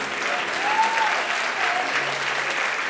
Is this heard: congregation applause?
yes